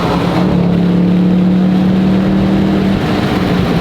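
A loud car exhaust roars steadily up close with a sustained droning note through most of the moment, a modified car with a piped-up exhaust revving and holding high.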